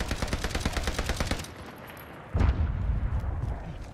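Video game gunfire as teams shoot it out, a rapid burst of automatic fire followed after a pause by a heavier blast with a rumbling tail, fairly loud and close.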